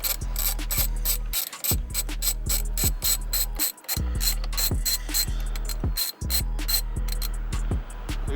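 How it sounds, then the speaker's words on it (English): A hand ratchet loosens the bolt on a BMW steering wheel, giving rhythmic clicking strokes close up in repeated runs with short pauses between sets. "You take the bolt off."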